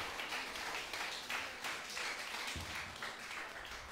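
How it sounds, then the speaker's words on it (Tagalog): A church congregation applauds for Jesus during a Sunday morning service, producing a steady, even wash of many hands clapping at low volume for the full stretch, with a faint voice now and then. "Palakpakan po natin si Jesus"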